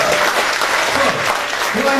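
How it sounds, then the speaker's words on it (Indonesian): A crowd at a personal development seminar launch applauds loudly and steadily, a dense wash of clapping with a few voices mixed in. "Tepuk tangan dulu."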